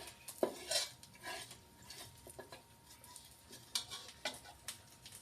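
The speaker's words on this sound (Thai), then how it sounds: "เอาหมูลงผัดนะคะ ลงผัด ผัดให้มันหอมนะพี่" Pork stir-fried in a pan with southern Thai curry paste for American fried rice, heard as quiet scattered clinks and scrapes of a utensil against the pan with a faint sizzle underneath, no talking.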